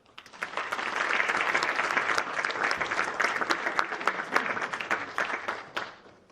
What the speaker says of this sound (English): So huge round of applause to them.